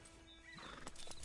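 Horse hooves clip-clop over a steady ambient bed in Red Dead Redemption 2 online gameplay, with a whinny mixed in, all fairly quiet and with no talk.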